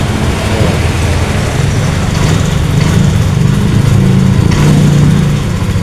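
An engine idling after its battery was recharged, a loud, steady, rough mechanical hum that runs without pause and no voices over it.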